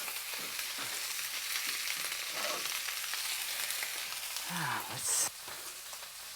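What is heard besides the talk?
searing lamb chops, scottadita di agnello, sizzling in a pan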